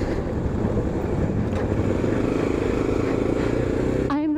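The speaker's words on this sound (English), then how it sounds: "I'm riding through the town of Antigua. I just left. And this is my rental bike." A rental motorcycle rides through the town of Antigua, Guatemala, its steady engine drone running continuously with wind rushing over the microphone, and a brief rising whine near the end.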